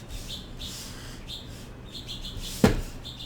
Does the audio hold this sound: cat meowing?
no